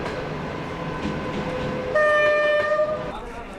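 Green-colored train passing close by, a steady rumble of wheels and cars with a long, loud horn blast sounding over it toward the end.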